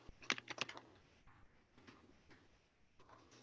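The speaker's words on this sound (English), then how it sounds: "And then you keep typing." Quiet typing on a computer keyboard while writing R Markdown code, a short burst of clicky keystrokes followed by sparse, faint taps and a soft thud against a low room hiss.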